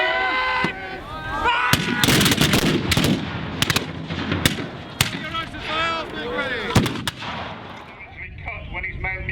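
Musket salvo at an English Civil War battle reenactment: many sharp, loud gunshots crack in quick irregular succession across the field, some close and some farther off, with shouting voices between and beneath the volleys.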